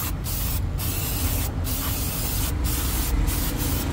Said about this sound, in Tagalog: Brake cleaner. Tignan nyo po paano ka-effective.